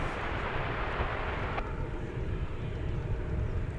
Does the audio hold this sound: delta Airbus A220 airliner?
yes